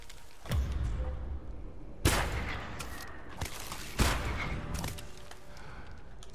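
Cannon fire in the video game Ghost of Tsushima: four heavy booming blasts at roughly two-second intervals, loud and close, each with a rumbling low tail and no talk over them.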